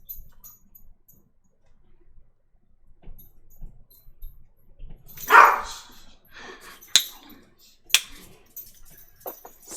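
A loud dog barking indoors, one sharp bark followed by a few scattered shorter yaps and clicks against an otherwise quiet room.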